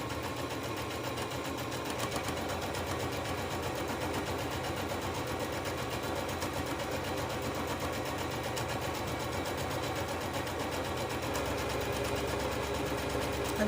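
A sewing machine runs a gather stitch on a kids' ball dress, giving a steady, continuous mechanical whir with a fast rhythmic beat. It stays close and even throughout, with no pauses and no voices.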